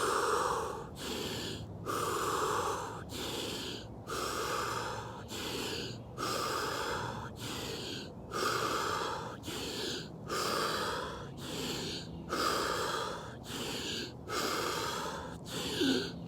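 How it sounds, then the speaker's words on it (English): Ten slow, deep breaths in a breathing exercise done before holding the breath for push-ups, each a loud, close inhale-exhale cycle with hissing air and no talking, repeating in a steady rhythm of about a breath every one and a half seconds. "So first breathing 10 times deeply, and then we're gonna hold the breath at the top."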